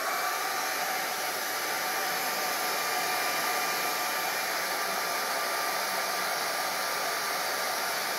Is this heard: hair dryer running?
yes